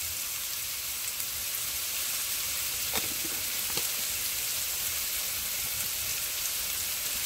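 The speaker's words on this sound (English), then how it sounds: "now I'm gonna put my garlic" Garlic sizzles and fries steadily in a hot pan, a constant dense crackle with a couple of faint utensil taps partway through, no voices.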